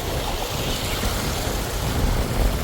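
Rushing water in a river in a village area near a waterfall makes a loud, continuous broadband roar with no pauses or voices.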